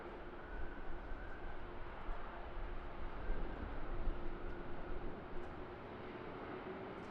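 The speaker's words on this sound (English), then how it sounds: "And here we have the nice rollout in front of us." A KLM Embraer airliner rolls out after landing at Amsterdam Schiphol, a distant, steady engine roar with a faint whine, heard alone at low level for several seconds.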